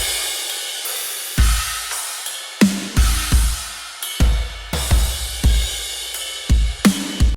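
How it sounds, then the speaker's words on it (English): A programmed metal drum beat built with the Modern and Massive 2 drum library, with heavy kick and snare hits spaced out over a dense sustained wash of cymbals, loud and up close with no one talking. "I've already programmed in a drum beat here using Modern and Massive 2"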